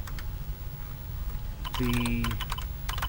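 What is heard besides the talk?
typing an answer on a computer keyboard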